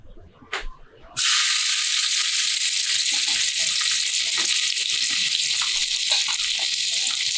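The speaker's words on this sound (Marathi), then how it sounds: "तर आता तेल तापलंय तर पहिला आपण यामध्ये घालूया कांदा" Onion dropped into hot oil for a Marathi prawn rice dish, a sudden loud hiss bursting in after a quiet moment and then holding as a dense, steady sizzle.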